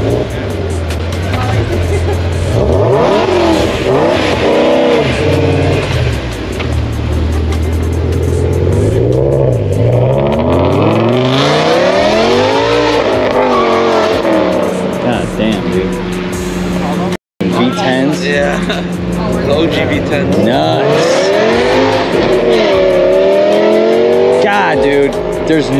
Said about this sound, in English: There's nothing that sounds better than that, BMW wise.